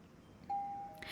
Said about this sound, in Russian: Разбудил меня очередной звонок в дверь.